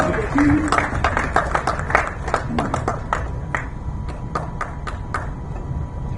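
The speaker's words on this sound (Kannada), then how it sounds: "ಒಂದು ಜೋರಾದ ಚಪ್ಪಾಳೆ ಬರ್ಬೇಕು ಇವರಿಗೆ." Loud applause from an album release event audience for the cameraman, a dense wash of claps under a murmur of crowd talk, with sharper individual claps standing out toward the end.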